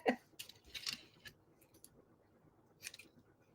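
Scissors snip through strips of paper being cut for handmade cards, a few quiet, close crisp cuts spaced irregularly with soft paper rustle between them and no talking.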